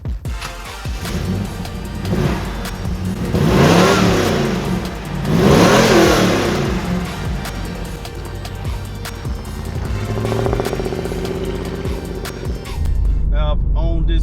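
A 1996 Pontiac Firebird Formula engine revs and accelerates loudly up close, surging in two strong pulls before settling into a lower drone, with a clunk near the end.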